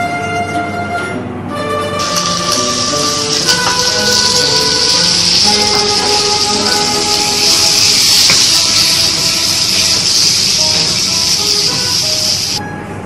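Chopped tomatoes sauté in spiced oil for pav bhaji, a loud, hissing sizzle that swells when they hit the pan and holds steadily, with faint scraping and stirring underneath.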